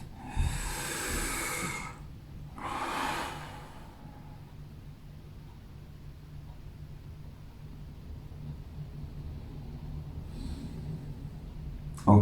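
Slow, deep breathing during a yoga session: two long, airy breaths close to the mic in the first four seconds, then quiet room tone with no further breaths.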